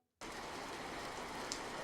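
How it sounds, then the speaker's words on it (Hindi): Heavy rain pours down on a village at night, a dense, steady hiss that starts abruptly after a brief silence and holds constant and loud throughout. "पूरी रात मूसलाधार बारिश हुई"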